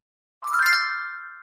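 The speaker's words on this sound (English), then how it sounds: "That's sparkling chimes, like for a magic wand." A bright, shimmering chime sweeps up into sparkling tones that ring and slowly fade, a short magical twinkle heard alone.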